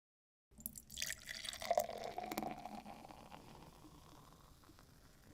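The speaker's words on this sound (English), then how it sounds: "Pouring beer." Beer is poured into a container with a faint, splashing liquid gurgle that swells briefly then settles into a soft fizzing trickle, heard alone at low volume.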